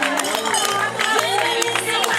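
Spectators at the finish of the Iława half marathon cheer and clap for arriving runners, a loud, continuous crowd roar with voices and an announcer talking over it.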